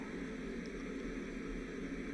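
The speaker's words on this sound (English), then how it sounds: "That sound in the background is my little white noise machine" A small white noise machine hums steadily in a room, a soft, even hiss with low rumble that stays constant throughout, with no talk.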